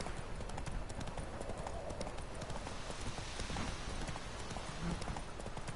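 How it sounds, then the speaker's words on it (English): Horse hooves clip-clop steadily in The Witcher 3 video game, a continuous trotting rhythm under a dense game soundscape, with a player talking intermittently over it. "Let's call the horsey. Here he is."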